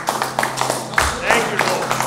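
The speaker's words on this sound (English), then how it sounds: "Give the Lord a hand clap." Congregation clapping hands during a church worship service, a run of claps over organ-like sustained tones and voices talking.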